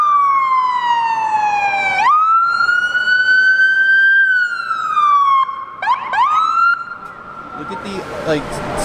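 An ambulance siren wails loudly through street traffic, its tone sweeping down and back up repeatedly and shifting as it passes nearby, with no one speaking.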